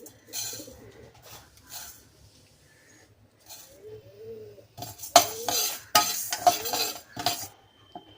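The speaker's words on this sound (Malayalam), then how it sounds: "അതായത് ഒരു ലൈറ്റ് ബ്രൗൺ കളർ ആവുന്നിടം വരെ ഒന്ന് വറുത്തെടുക്കാം" Split moong dal dry roasting in a pan without ghee, stirred with a spoon in scraping bursts and clinks that grow louder toward the end, with bird calls faintly in the background.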